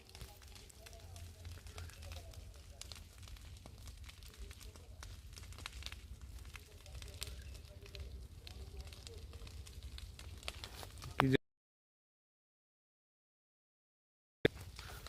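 Fire crackles with a steady rushing roar and scattered sharp pops, a voice talking over it, before the sound cuts out briefly near the end.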